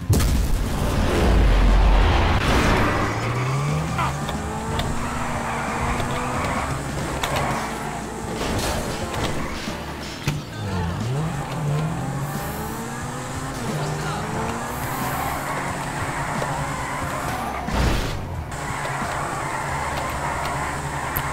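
Engine roar of a car in GTA 5 during a drift session, rising and falling with pitch sweeps as it boosts through the air, with a heavy thump near the start and another around 18 seconds; someone talks over it throughout.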